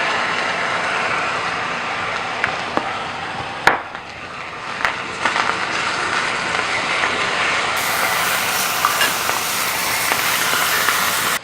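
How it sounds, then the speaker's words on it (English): Ginger frying in hot oil for a curry sauce with whole roasted cauliflower, a steady broadband sizzle with scattered sharp pops and crackles, one louder burst near the middle, no talking. "That ginger just popped everywhere."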